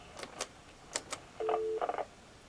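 Quiet clicks from a hook flash followed by a few short, bright DTMF keypad tones dialing star 4-3 on a conference-calling phone line, one held slightly longer, then a quick cluster of beeps.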